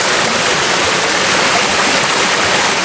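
Rushing water from a flowing mountain stream formed by rainy-season runoff near the Chuveje waterfall in Sierra Gorda, Querétaro, a loud, steady broadband roar that continues without pause, close to the listener.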